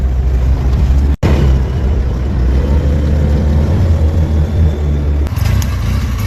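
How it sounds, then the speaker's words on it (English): A mini truck engine drives along with a deep, steady rumble and low drone, loud and close, broken by a short dropout and an easing of the engine near the end. "This is the ultimate mini truck."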